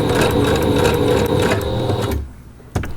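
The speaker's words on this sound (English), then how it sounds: "I am just wrapping the fabric around the elastic and sewing next to it, not through it." A sewing machine runs close and loud in a fast, steady whir as it stitches fabric wrapped around elastic on an upcycled shirt, stopping abruptly near the end, followed by a brief click.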